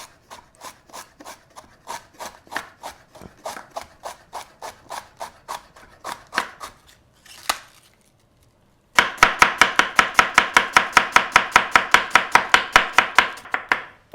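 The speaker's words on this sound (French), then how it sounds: "On coupe gentiment." A knife slices cabbage finely on a cutting board in a steady run of crisp, rhythmic cuts. After a short pause it resumes with faster, louder, more regular chopping.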